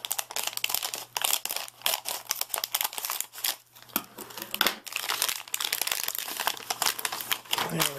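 Cardboard and plastic packaging rustling and crinkling as a shipping package holding a 4TB hard drive is cut open, a close, busy run of crackling, crumpling and tearing bursts.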